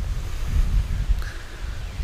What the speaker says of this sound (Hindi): आज बहुत ही ज़्यादा हवा चल रही है